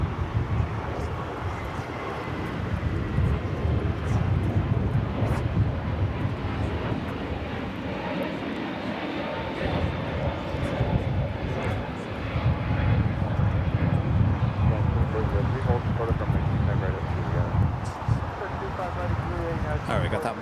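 JetBlue Mint jet airliner, flight 688, taking off from LAX bound for Boston: a steady, loud broadband engine roar holds for about twenty seconds with slight swells, while people talk over it.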